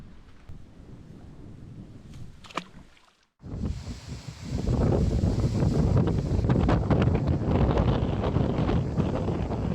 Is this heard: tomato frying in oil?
no